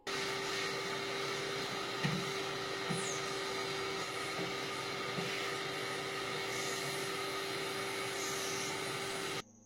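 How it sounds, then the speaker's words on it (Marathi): A vacuum cleaner sucks dust out of a wardrobe, giving a steady, even whine with a constant hum that runs unbroken for the whole stretch at moderate distance, with no voices. "मी आधी व्हॅक्यूम क्लीनरने सगळी धूळ वडून घेते"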